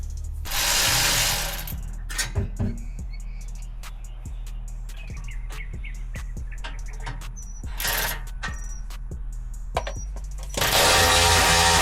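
Ratchet clicks and bursts of a power tool tightening exhaust bracket bolts under a Jeep Gladiator with a Rough Country exhaust, with short clicking runs between louder whirring bursts at the start, middle and end, close by with no talk.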